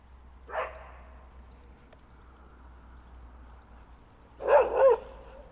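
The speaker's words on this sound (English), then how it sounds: "That's a big dog." A big dog barking in the distance near a football stadium, one single bark followed after a pause by a double bark, faint against a quiet low background hum.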